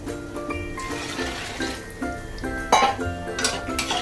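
Water splashes and gurgles into a metal pot of rice, with occasional clinks of the vessel, steady and close throughout.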